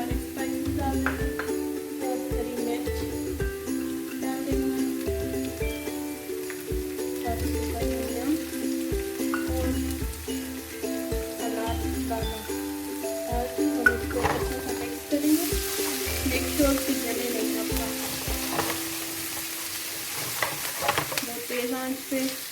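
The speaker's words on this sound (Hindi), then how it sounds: "तेज़ आंच पे नहीं पकाएंगे, थोड़ी मीडियम आंच पे हम इसे पकाएंगे।" Whole spices frying in oil at medium heat for a potato samosa filling, with a steady close sizzle and crackle running throughout, periodically stirred, and a brief burst of louder hiss near the end.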